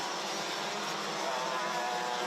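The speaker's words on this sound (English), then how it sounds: "There is a kart with a noisy exhaust," A DD2 Masters racing kart with a noisy exhaust at the Genk circuit produces a steady, buzzing engine drone that holds at an even, moderate level for a couple of seconds.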